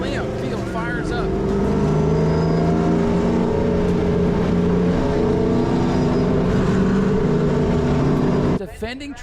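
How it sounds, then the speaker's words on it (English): Late model race car engines fire up together on a short track at New Smyrna and rumble and rev loudly as a field, with a voice talking over the crowded engine roar before it cuts off. "Drivers, start your engines!"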